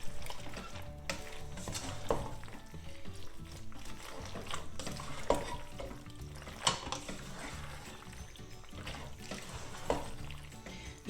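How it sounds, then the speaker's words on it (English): Pappardelle carbonara is stirred in a pan, quiet soft scraping and gentle sizzling with occasional sharper clinks of the utensil against the pan, with no talking. "let's give things a little bit of a stir"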